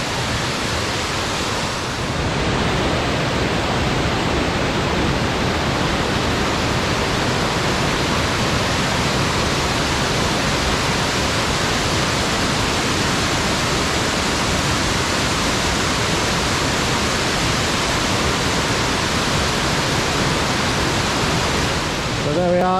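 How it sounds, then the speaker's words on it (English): Epic waterfall heard from close by, a loud, steady roar of falling water that fills the whole span without a break. "But what an epic waterfall"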